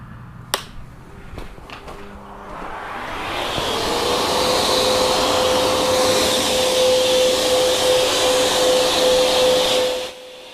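A BLO Air GT car dryer, set to max, powers up after a few clicks into a loud, steady blowing roar with a whining tone, runs for several seconds, then cuts off abruptly.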